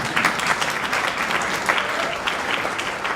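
A dinner-event audience applauds steadily, dense even clapping that holds at a full level for the whole stretch.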